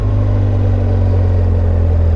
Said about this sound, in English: It's got that acro muffler on this thing.